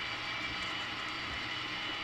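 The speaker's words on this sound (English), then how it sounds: "flipping the throttle on the big jet racer as it moves in for its quarter-mile pass" A 17,500-pound-thrust General Electric J79 jet engine on a jet dragster roars steadily at a 1971 AHRA drag racing event, a dense continuous blast at high level with no talk over it.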